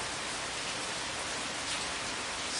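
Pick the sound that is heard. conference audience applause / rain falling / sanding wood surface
rain falling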